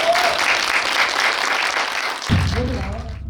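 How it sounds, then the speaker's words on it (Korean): Applause from a small gathering at a shrine membership training session, clapping building under a speaking voice before the clip cuts to a quieter room. "정말 박수 쳐주고 싶네요."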